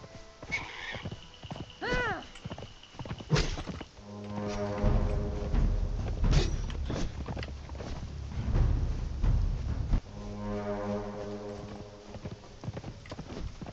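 Rhythmic hoofbeats of a galloping horse in the video game Conan Exiles, with a horse whinnying early on and music-like tones underneath, continuing steadily for several seconds.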